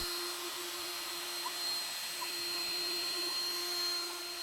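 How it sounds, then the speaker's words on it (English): Steady high whine of a LUNYEE 3020 CNC router spindle rough-cutting wood, a constant droning tone with faint cutting noise, continuous and moderately quiet, no voices. "It starts with a rough cut, leaving big lines, and that's normal."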